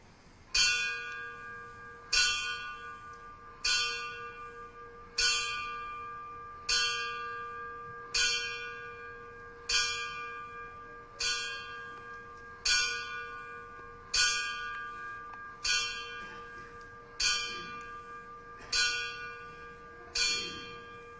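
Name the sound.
ceremonial bell tolled 18 times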